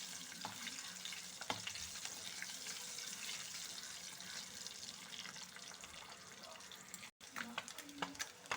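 Eggs fry in a pan while browning for a tomato egg curry, a steady, fairly quiet sizzling hiss running throughout with a few soft clinks and a brief dropout near the end.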